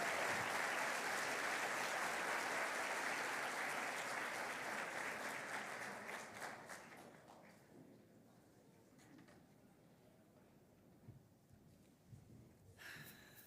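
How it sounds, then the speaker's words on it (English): Audience applause welcoming a plenary speaker at a language-teaching conference, a loud sustained ovation that gradually fades over several seconds to a few scattered claps and quiet room noise. "Under a round of applause, make her feel the energy and the love."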